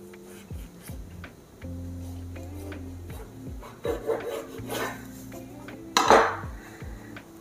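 A knife cuts through a freshly baked savory loaf cake, giving rasping, scraping strokes and a sharp clink of the blade against a dish near the end, set against a steady background hum and faint kitchen clatter.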